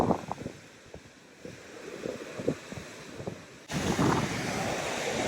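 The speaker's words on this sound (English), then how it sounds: "Waves are just ginormous this time of year." Surf roars continuously in Hawaii with wind buffeting the microphone, growing louder and fuller near the end as a huge wave breaks close by.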